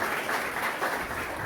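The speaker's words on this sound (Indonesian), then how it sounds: "tepuk tangan buat teman-teman dari GPDI." Steady applause from a seminar audience, a dense patter of clapping that holds at an even level throughout.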